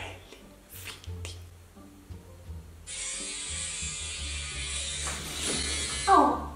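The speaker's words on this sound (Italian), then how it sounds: "Rasoio finto, capelli finti." Fake electric razor used in a prank, giving a sustained loud buzzing that starts partway through and holds steady, with a sharp rattling burst near the end and voices talking before and around it.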